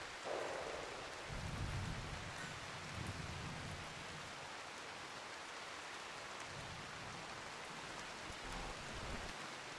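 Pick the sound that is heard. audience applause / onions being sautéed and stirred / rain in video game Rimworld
rain in video game Rimworld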